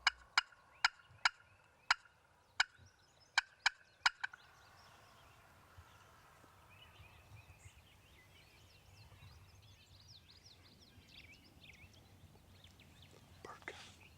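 A wild turkey gobbler strutting toward a hen during an Illinois hunt lets out a rapid series of sharp, loud gobbling bursts over the first four seconds, then gives way to quiet outdoor ambience with faint distant birdsong.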